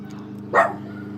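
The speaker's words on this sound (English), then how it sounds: "There's some kids going ape shit and a dog barking and a lawnmower going." A single short dog bark, fairly close, over steady low background noise with kids shouting and a lawnmower running.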